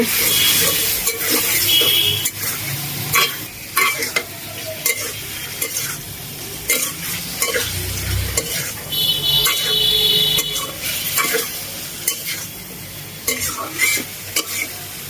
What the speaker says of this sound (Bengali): এরপর মাছটা কিছুক্ষণ কষিয়ে নিব